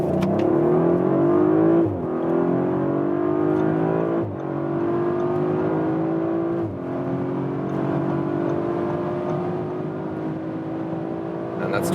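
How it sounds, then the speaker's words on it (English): Audi RS5 Coupé with all-wheel drive accelerating hard from about 30 km/h, heard from inside as a loud steady engine roar rising in pitch, with two gear changes briefly dipping the tone. "We'll start here about 30 kilometers an hour and accelerate it out."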